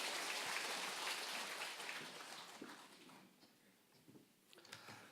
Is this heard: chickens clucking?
no